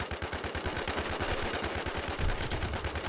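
Rapid, loud automatic gunfire from the zombie survival shooter H1Z1 hammers out a steady stream of close shots for the whole stretch, swelling briefly near the end, with no talking.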